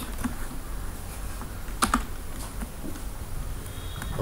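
Quiet, irregular keystrokes on a computer keyboard, with a few louder clicks standing out from the soft tapping.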